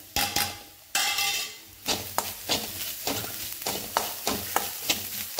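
Grated coconut with Kashmiri chili powder sizzles in a pan for chicken thoran, as a spatula scrapes and knocks against the metal in an irregular, close rhythm over the steady frying.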